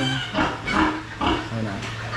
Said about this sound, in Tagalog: Nagpapasok ng mga inahin.